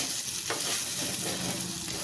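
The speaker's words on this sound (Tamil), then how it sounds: "இப்போ இதை நல்லா வதக்கிக்கலாம்." Mushrooms sauté in a hot pan for a Tamil mushroom kulambu, crackling in a dense, constant sizzle with a brief scrape of stirring partway through.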